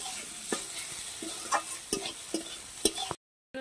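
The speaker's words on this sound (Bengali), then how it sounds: "এবার আলুটাকে পেঁয়াজের সাথে ভালো করে ভেজে নেব।" Potato and onion fry together in a pan for small cutlets, a soft steady sizzle broken by repeated scraping stirs at close range, ending abruptly in silence.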